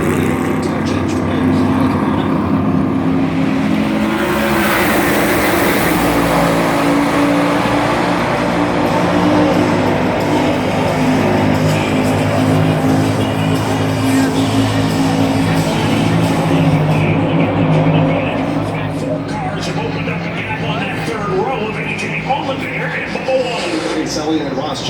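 NASCAR Cup Series stock cars race in two lines at Daytona, a loud steady engine roar filling the whole stretch beneath continuous commentary, swelling briefly as the pack passes.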